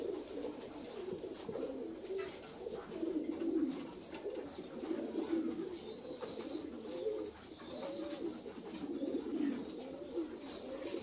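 A flock of over 200 pigeons coos steadily and continuously while feeding on a pigeon farm, many soft overlapping calls close by, with occasional faint chirps and rustling in the background.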